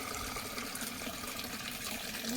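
Tap water gushes steadily into a water pot at home, a continuous close splashing rush with no pauses.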